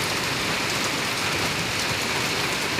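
Steady heavy rain pours down outdoors in front of a house facing an open field, an even, unbroken hiss of drops with no voices over it.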